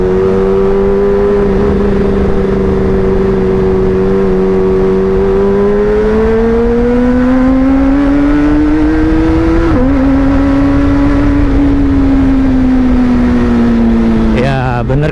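Motorcycle fitted with a Pro Speed Black Shark silencer exhaust, heard while riding: a loud, steady droning engine note that rises and falls with speed and a brief shift near the middle, close and continuous throughout.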